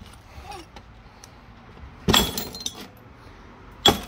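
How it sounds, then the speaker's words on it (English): Glass objects being smashed, with two loud, sharp crashes separated by a pause, each followed by a brief scatter of tinkling shards, against a quiet background. "Just smash it. Smash it. Have fun with it."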